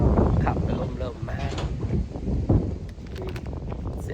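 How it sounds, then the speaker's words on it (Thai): Gusting wind blowing outdoors, buffeting the microphone with steady low rumbling and rustling while people talk over it. "โอ้ยลมมาเลย"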